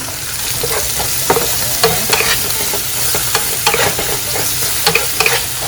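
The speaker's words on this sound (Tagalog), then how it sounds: "Lang natin magluto yung olive sa ating garlic and anchovies." Olives frying in a pan with garlic and anchovies: a continuous close sizzle broken by repeated clicking and scraping stirs of a utensil against the pan, with no talking.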